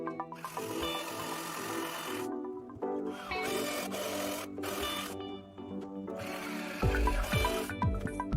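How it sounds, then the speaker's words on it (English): Power drill boring pilot holes and driving screws into wood boards, fastening them to the leg frame of a DIY raised garden bed; a sustained motor whine runs in long bursts separated by short pauses. "we're just in the process of drilling some pilot holes in here and putting some screws in"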